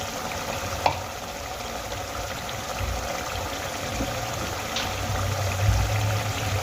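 Ground spices with Kashmiri chilli, garam masala, coriander and cumin frying in a pan for a spinach and gram flour dish, a steady close sizzle with faint scraping stirs and a small clink, no voices.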